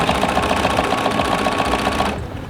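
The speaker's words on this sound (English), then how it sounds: "so that I can sew less than a scant 1/4 inch" Sewing machine stitching fabric for a flange and piping binding, a loud rapid mechanical whir with steady needle pulses that runs for two seconds, then stops abruptly.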